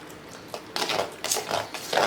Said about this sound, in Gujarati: હવે આપણે એક ચમચી લેવાની છે ચમચીની મદદ વડે આપણે હલાવીશું